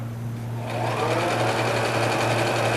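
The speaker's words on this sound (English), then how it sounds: "And sew down to that end." A sewing machine stitches down quilt seams on half-square triangle blocks. It starts after a quiet moment and then runs in a fast, steady whir close by with no talking.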